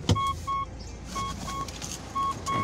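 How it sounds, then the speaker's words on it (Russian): A Mitsubishi Pajero's seatbelt warning chime beeps repeatedly in short, evenly spaced tones over a low engine hum inside the cabin. "Да, я не пристегнутый, пикать чутка."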